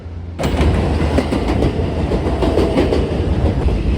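A New York City subway express J train roars past at close range, loud and sustained, with steady rumble and rhythmic clatter of wheels over rail joints starting abruptly and continuing throughout.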